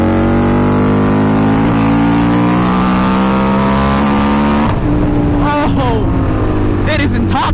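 Harley-Davidson V-Rod motorcycle engine under way while riding: a loud, steady drone whose pitch climbs gradually as it revs, with a voice partly over it.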